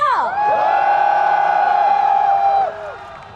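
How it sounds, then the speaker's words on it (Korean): Concert crowd at a Nexon Champions Cup final performance screaming and cheering in a loud sustained roar of high-pitched voices, fading off after about three seconds. "함성 소리 질러주세요"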